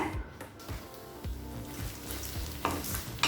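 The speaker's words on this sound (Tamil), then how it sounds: "இப்போ வெங்காயம் நல்லா வதங்கிடுச்சு" Onions sauté in a pan, giving a quiet, steady sizzle with a few soft stirring scrapes, heard up close without voices.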